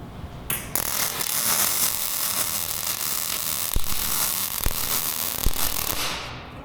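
Welding, with a steady loud crackling, buzzing hiss that runs almost unbroken, broken by a few sharp pops and snaps near the work.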